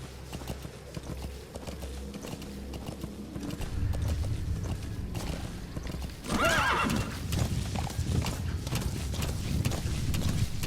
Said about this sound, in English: Just a horse.